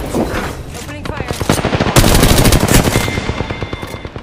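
Rapid automatic gunfire from the Apex Legends video game, loud and close, with bursts of shots rattling continuously for several seconds before trailing into spaced single cracks.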